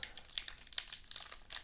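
Foil wrappers on packs of NASCAR trading cards crinkle and tear in quick close bursts, the rustling busy and fairly faint with no talking.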